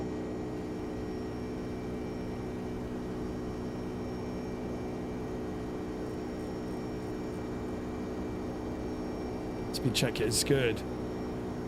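Jet engines of a FlightFactor 767-300 during takeoff in X-Plane 12: a steady, droning roar with a constant tonal hum holds throughout, briefly joined by a short burst of other sound near the end, as a voice speaks over it.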